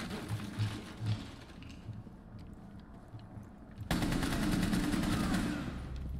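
Gunfire in the Rainbow Six Siege video game: irregular low bursts of shots early on, then from about four seconds a loud, sustained stretch of rapid automatic fire that continues to the end.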